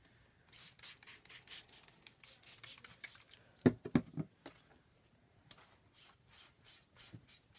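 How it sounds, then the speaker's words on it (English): A chalkboard eraser rubs over a Chalk Couture chalk transfer on a chalkboard, making a run of quick, close, scratchy rubbing strokes, broken by a few louder knocks midway before the rubbing resumes. "I love the board eraser for cleaning our transfers."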